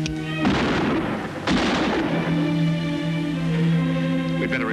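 Gunfire in a 1958 science-fiction film, two loud, close booming shots about a second apart, each followed by a rumbling decay over a low sustained drone.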